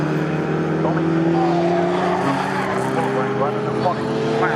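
Classic 1960s racing cars, including a red MG, at speed on the Snetterton circuit, a loud sustained engine roar with rising and falling pitch tones, heard under a commentator talking.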